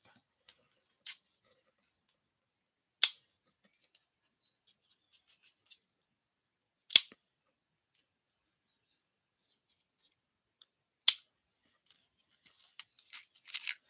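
Scissors cut paper for handmade cards in a quiet room, with a few sharp, isolated snips spaced seconds apart and a flurry of small crisp snips at the end.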